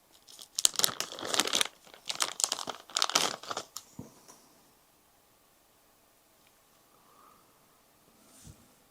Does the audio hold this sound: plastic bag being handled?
yes